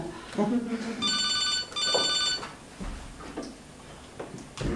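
A telephone rings in two short trilling bursts indoors, followed by quieter rustling and handling noises as the receiver is picked up.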